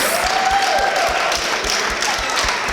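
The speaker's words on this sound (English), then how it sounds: "Students, give them a round of applause." Parents at a school awards assembly are applauded by the student audience, a steady crowd clapping that fills the room, with an even, continuous texture and no voices over it.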